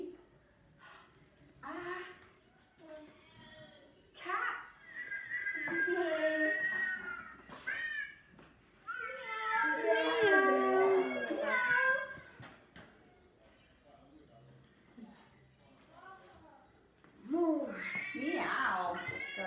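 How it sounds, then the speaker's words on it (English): Recorded cat meows played back from an iPad, several separate plaintive calls spread across the stretch, some long and wavering, fairly close and clear against a faint background hum. "Here we used an iPad with cat sounds"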